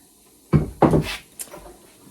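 A drawer is pushed shut twice in quick succession with two solid thuds close by, followed by a lighter knock.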